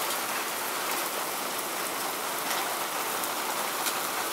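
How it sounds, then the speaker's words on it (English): Steady rain falls hard and close, spattering against a window and running in through it, an even dense hiss with occasional sharper drops and no voices. "Oh, it's raining. Harder."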